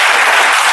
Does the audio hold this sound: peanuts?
no